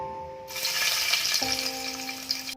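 Six or seven garlic cloves dropped into hot oil in a frying pan on a gas stove sizzle loudly and steadily, a dense crackling hiss that starts abruptly and continues close by over a faint tonal hum.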